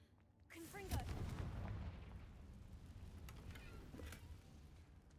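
A Confringo fire spell bursts in Hogwarts Legacy, giving one sharp blast followed by a fiery, rumbling roar that fades over several seconds, with faint magical chimes mixed in.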